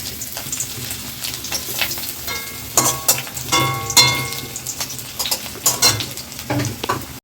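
Chopped onion sizzles in hot oil with bay leaf, cinnamon and cloves in a wok, a close, steady frying hiss broken by repeated scraping stirs and utensil clinks.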